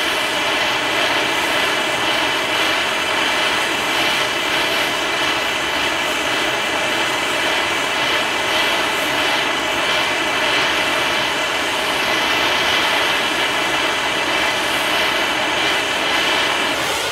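A gas torch burner heat-treating an AK rifle part gives a loud, steady, close roar that holds at a constant level throughout, with no talking over it.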